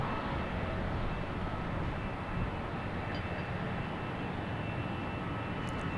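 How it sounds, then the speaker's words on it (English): American Airlines Boeing 777-200 coming in to land at Boston Logan, a faint, distant steady broadband jet roar held evenly for the whole stretch. "American Airlines 777 coming in from London Heathrow."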